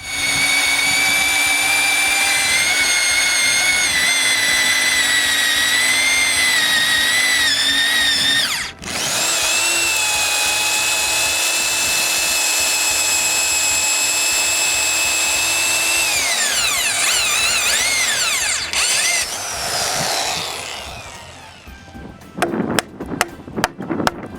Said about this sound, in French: Je place le bout de la mèche d'un trou de clou, puis je les perce.